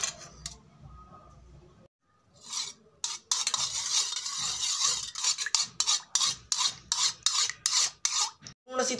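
Food ingredients being mixed by hand in a village kitchen, a rhythmic wet rubbing and rasping that starts after a quiet moment and repeats in steady strokes, close and fairly loud.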